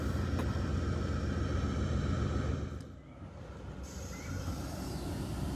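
A Norfolk Southern coal train, led by locomotive 4422, departs on the Paducah and Louisville Railway at Madisonville, Kentucky, making a steady low rumble that dips briefly, then a continuous rolling drone at moderate distance.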